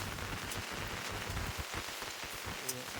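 Steady rain patters on a surface, a continuous close hiss with scattered drops.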